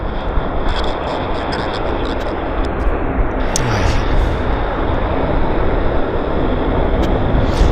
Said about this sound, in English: We've got a Q400 here coming out.